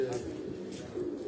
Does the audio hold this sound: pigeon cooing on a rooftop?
yes